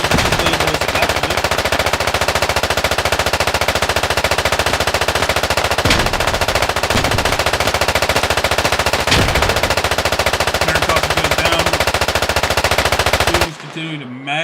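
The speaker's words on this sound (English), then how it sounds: "Continuing to mag dump with the AR" Sustained rapid automatic assault rifle fire in a multiplayer shooter match, loud and continuous for many seconds with a couple of louder impacts, cutting off abruptly near the end.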